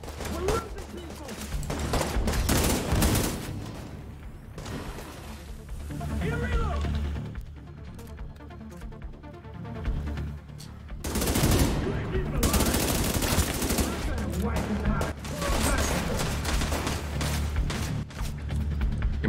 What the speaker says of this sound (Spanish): ¿Quién me está disparando desde tan cerca, tío?